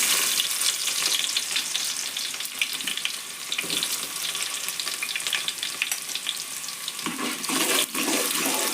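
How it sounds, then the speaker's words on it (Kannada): Sliced onions hit hot oil for a chicken gravy and fry with a loud, dense, crackling sizzle that continues throughout, with occasional stirring scrapes close by. "ಸ್ವಲ್ಪ ಎಣ್ಣೆ ಒಳಗೆ ಫ್ರೈ ಆಗ್ಲಿರೋ ಉಳ್ಳಾಗಡ್ಡಿ"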